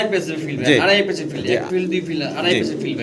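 Fancy pigeons coo repeatedly at close range, their low throaty calls rising and falling under someone talking continuously throughout.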